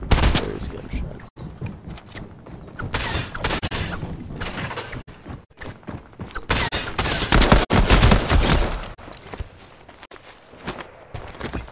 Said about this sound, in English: There's gunshots.